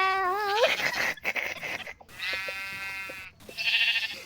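Goat bleats from the Minecraft video game, sounding like sheep, come in three wavering calls, close and fairly loud, with no speech over them.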